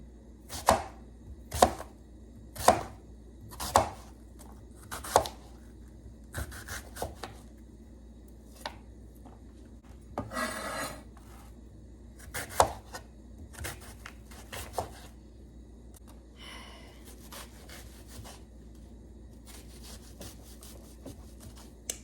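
Kitchen knife chopping an onion on a cutting board, a series of crisp separate chops spaced about a second apart, then scattered slicing and rubbing noises, close and fairly quiet.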